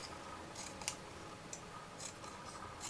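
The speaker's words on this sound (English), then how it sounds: "So I'm going to take a small pair of scissors and I'm just going to snip" A small pair of scissors snips into paper cardstock during card-making, giving a few quiet, crisp cuts spaced irregularly over soft background hiss.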